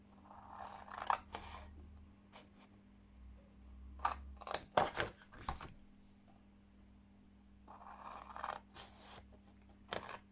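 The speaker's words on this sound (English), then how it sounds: "So you're going to cut up each of these score lines." Scissors snip through scored card stock while a treat box for a papercraft project is being made, several separate bursts of crisp cutting clicks and scrapes spread over the span, fairly close, against a low steady hum.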